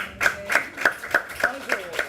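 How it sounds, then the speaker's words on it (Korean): At a live author talk and book event, a small audience claps in a slow, even rhythm, about seven distinct, crisp claps spaced roughly a third of a second apart, fairly close and moderately loud. "박수 한번 보내주세요"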